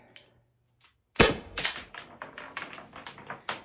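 A Byrna LE launcher fires one sharp, loud pop up close, followed by a quick run of lighter clicking and clattering that fades out unevenly.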